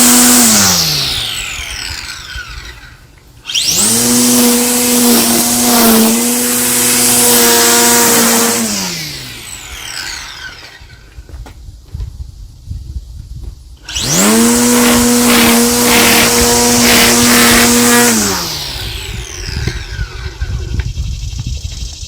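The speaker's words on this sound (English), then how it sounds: "The electric blower can come in handy even for some things you might not have thought of, like cleaning up the basement." A Toro electric leaf blower runs indoors in two long bursts, each spooling up to a loud, steady whine with a tonal hum, then winding down, separated by quieter gaps with faint handling noise.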